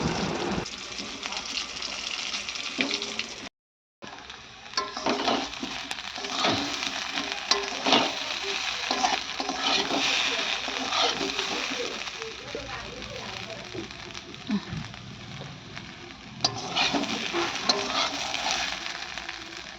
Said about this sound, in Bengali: তো আলুগুলো ছেড়ে দিলাম